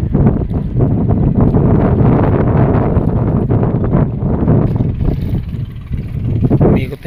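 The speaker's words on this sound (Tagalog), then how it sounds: "Umikot na yung hangin." Strong wind roars and gusts steadily over a flooded seaside boulevard, a loud continuous rush with brief dips and swells, buffeting the microphone close up.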